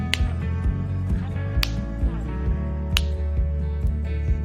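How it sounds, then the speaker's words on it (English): A few crisp finger snaps, spaced roughly a second and a half apart, crack over a steady droning music bed during a love-spell ritual. "you will snap your fingers 41 times"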